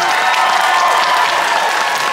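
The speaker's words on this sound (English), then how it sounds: "Big warm round of applause for Ratcliffe!" Warm applause and cheering from a dance competition audience for Ratcliffe at a furry convention, a dense continuous burst of clapping with scattered whoops, loud and close throughout the short stretch.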